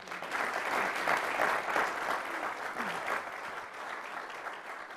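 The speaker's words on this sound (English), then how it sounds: "I'd ask our audience to please give a warm, traditional round of applause to our speaker today, Labor Secretary Hilda Solis." An audience at a press club interview gives a steady round of applause for the Labor Secretary, a dense continuous patter of many hands at moderate distance lasting several seconds.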